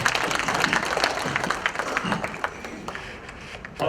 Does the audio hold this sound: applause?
yes